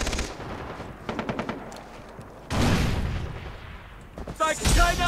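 A Vector submachine gun fires in Far Cry 3 multiplayer, first as rapid rattling bursts, then a louder sustained volley of shots and more bursts at the end, close and prominent, with a voice occasionally speaking.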